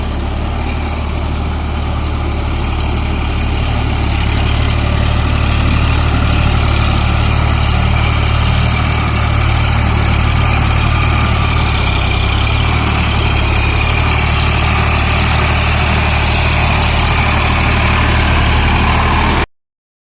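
Vehicle engine running steadily at 1800 RPM in low fourth gear, a continuous loud, heavy drone with no breaks for about twenty seconds.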